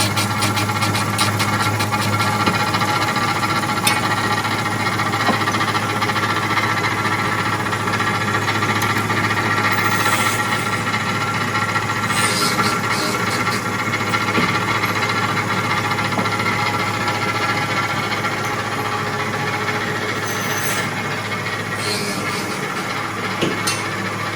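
A valve refacing machine runs during the rebuild of a 40HP air-cooled Volkswagen Bus engine, giving a loud, steady mechanical whir and grind with a constant hum that lasts the whole stretch, with no talking.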